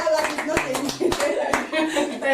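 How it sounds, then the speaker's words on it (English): A round of applause breaks out during an interview-style talk show, a burst of clapping hands heard under and between speaking voices, with a little laughter. "Interview with the BBC, round of applause."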